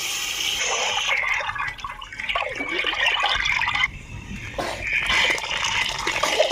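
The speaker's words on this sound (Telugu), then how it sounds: "తగిన నీళ్ళు పోస్తున్నామండి" Water poured into a cooking pot while making spicy tomato rice with Guntur chilli powder, a steady splashing, gurgling stream that runs close and fairly loud, with a brief break partway through before the pour resumes.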